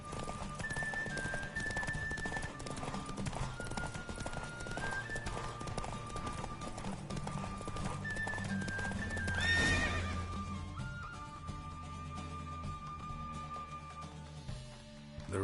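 Roach, the horse in The Witcher 3, gallops with fast rhythmic clip-clop hoofbeats and lets out neighs and whinnies over continuous game music, fairly quiet and steady throughout.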